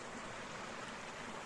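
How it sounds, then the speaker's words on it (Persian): The Gisoo waterfall gushes from a tall rock cliff near Naraq, Iran, a steady broadband rush of falling water, continuous and even, heard alone. "کوه صخره‌ای بسیار بلند که آبشار گیسو در دل این صخره میزنه بیرون"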